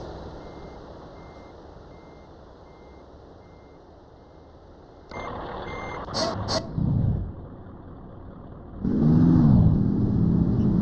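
Bus driving in a bus simulator game on a Bangladesh map: a low engine drone, then a burst of repeated reversing beeps and brief electronic tones, followed by a louder rising engine rev with a hissing air-brake-like whoosh.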